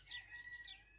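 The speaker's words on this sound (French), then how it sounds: "vous entendez, c'est le coq du voisin" A neighbour's rooster on a French countryside farm with chicken coops crows faintly from a distance, two drawn-out calls in just over a second against quiet outdoor background.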